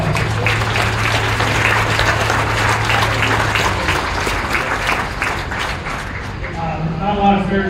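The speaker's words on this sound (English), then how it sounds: "Let's give all the Page County breeders in this town a big round of applause." Audience applause fills the ring at a county fair market beef show for Page County cattle breeders, steady dense clapping that holds for several seconds with a low tone underneath and crowd murmur toward the end.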